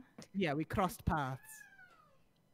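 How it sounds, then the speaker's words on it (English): A pet cat gives one clear, drawn-out meow close to the microphone during an Among Us game stream, right after a short burst of speech. "Sorry about my cat, guys."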